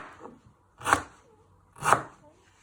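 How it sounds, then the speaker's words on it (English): Two sharp, close knife chops land about a second apart as food is cut into thick pieces on a board, with a faint softer tap just before. "You first chop this one in half,"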